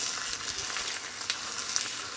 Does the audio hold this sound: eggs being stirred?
yes